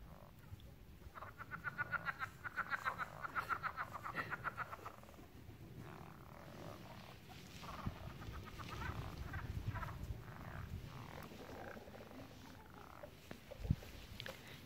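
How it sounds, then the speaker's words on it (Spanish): Frogs croaking in a small pond on a ranch, a faint chorus of rapid pulsing calls rising and falling from a distance, with soft outdoor background noise and no talking. "quiero que escuchen cómo se oyen las ranas aquí en el laguito este."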